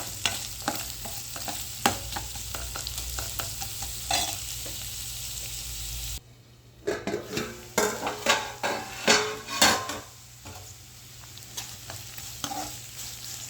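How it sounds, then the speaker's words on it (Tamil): Onions with salt frying in a pan for a mushroom biryani, a steady sizzle broken by a brief pause, then loud scraping strokes of a spoon against the pan as the onions are stirred; no talk. "அடுத்து வெங்காயம் போட்டுக்கிறோம் கூடவே உப்பும் சேர்த்துக்கிறோம் இப்போ இந்த வெங்காயம் நல்லா வதங்கணும்"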